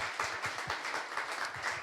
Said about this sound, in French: Est-ce qu'on peut les applaudir chaleureusement?